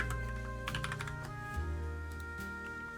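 Quick bursts of keystrokes on a computer keyboard, close and clear, clicking over a steady background hum.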